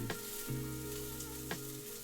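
Steak pan-sears in butter with a steady, close crackling sizzle, broken by a couple of soft clanks from the pan.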